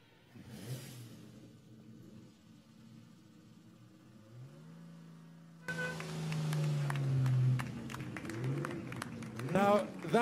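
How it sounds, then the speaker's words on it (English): An early 1960s classic sports car passes by at a concours d'elegance parade at Villa d'Este, its engine revving up and swelling as it goes by, with commentators talking over it and crowd noise in the background. "Now, that was an absolute classic of early 1960s sports car design."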